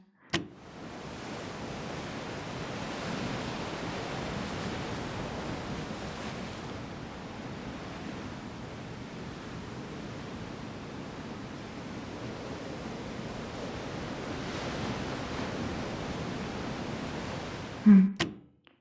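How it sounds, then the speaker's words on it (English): Steady ocean surf washing in continuously, a broad hissing roar of waves with gentle swells, no voices. "To start, wave sounds."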